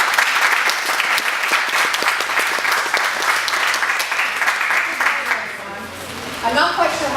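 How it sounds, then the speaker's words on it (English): A crowd at a community event on ending violence against women claps steadily in warm applause welcoming a speaker, the sound dense and even before tapering off near the end. "please welcome her with a warm round of applause"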